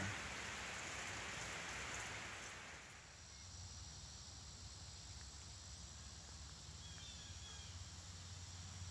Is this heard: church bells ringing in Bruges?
no